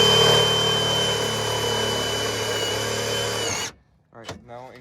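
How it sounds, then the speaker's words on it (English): An angle grinder whines at a loud, steady high pitch while cutting into the trunk of a G37 car, running for several seconds before cutting off abruptly, followed by brief speech. "Alright, now angle grinder."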